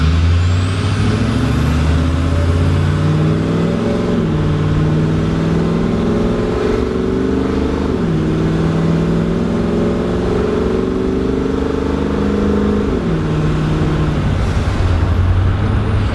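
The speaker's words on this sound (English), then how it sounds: "even after cycling my glow plugs, it still takes a while to start" A heavy diesel bus engine cold-starting after glow plug cycling rumbles loudly and steadily up close, its pitch stepping up and down a few times as it revs before settling.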